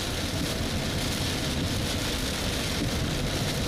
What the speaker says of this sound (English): Oh man, it's raining like a mother.